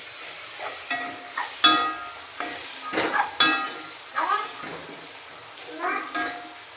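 Fennel seeds fry in a pan for squid fry, with a steady sizzle under repeated scraping stirs of a spoon against the pan, close and fairly loud.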